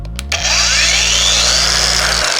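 Dnipro-M 20V cordless angle grinder starting after a couple of clicks, its motor spinning up to a steady, loud, close whine with a bright whirring hiss, then cutting off at the end.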